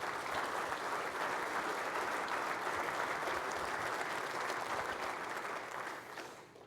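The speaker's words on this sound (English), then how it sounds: "give one more round of applause to Mike and Ed Buckner" Audience applauds at a keynote welcome session, a steady, dense wash of clapping that holds loud for about six seconds before starting to fade out at the end.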